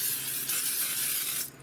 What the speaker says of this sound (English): take some cooking spray and just give them a quick zhuzh over the top